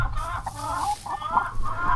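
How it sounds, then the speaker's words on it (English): Chickens cluck and murmur inside a hen house, a near, continuous flock chatter of overlapping calls with no talk. "Chickens are all for one type of animal, but they do flock together and look after each other at times with noises and sounds."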